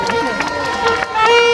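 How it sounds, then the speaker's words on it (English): A cheering, clapping crowd greets the Charlestown Maroons, steady and loud, with voices and chanting mixed through the noise. "can we have a round of applause for Nanny of the Maroons?"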